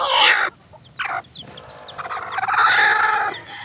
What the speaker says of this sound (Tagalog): Mukhang malakas na ang kanyang sisiw. Ayan po mga kaibigan, nandito po ang kanyang sisiw.